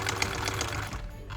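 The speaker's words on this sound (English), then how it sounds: "I got a sewing machine from my grandma for Christmas." A sewing machine received as a Christmas gift runs at a steady rapid stitching clatter with a low mechanical hum, close and continuous, briefly easing near the end.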